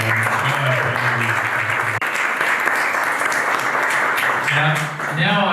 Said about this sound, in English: Can I just ask for a repeated round of applause for our entire